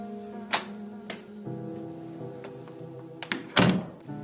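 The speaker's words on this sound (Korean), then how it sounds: "현관문이 열리는 듯한 소리가 들렸다." Front door of a house being opened late at night, rendered as a horror radio sound effect: a few dull thunks and clacks, with a louder knock-like hit near the end over a low background hum.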